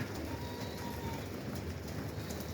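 Pigeons in a breeding loft coo softly and continuously over a steady, noisy background hum, the calls low and indistinct rather than close and distinct.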